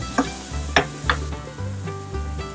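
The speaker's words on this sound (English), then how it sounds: "Now I'll just saute these onions over medium heat until they get nice and soft" Onions sautéing in a pan over medium heat, a steady close sizzle with a few soft clinks of a utensil stirring, no voices.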